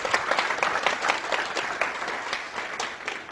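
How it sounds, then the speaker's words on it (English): A steady round of audience applause at a hypnosis seminar, many hands clapping together in a continuous, moderately loud wash that lasts throughout without talk. "Give a nice round of applause."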